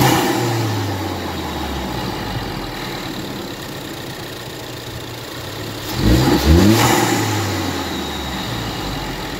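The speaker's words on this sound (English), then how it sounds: "you get a little bit of like air intake noise. It makes the turbo sound a little bit better." A turbocharged car engine fitted with a new air intake idles at a steady low drone, then revs up sharply around the middle with a rising whoosh of intake noise before settling back to idle.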